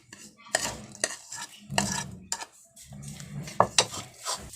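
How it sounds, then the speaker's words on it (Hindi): A spoon mixes crushed black pepper, crushed red pepper and salt in a bowl, giving several close scraping and clinking bursts separated by short pauses. "इसको हमने अच्छी तरह चम्मच से मिला लिया है।"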